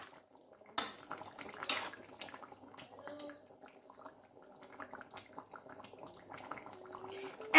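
A spoon stirs Dak Bungalow chicken curry with potatoes in a pot on the stove, making intermittent scraping clinks and knocks against the metal while someone talks nearby.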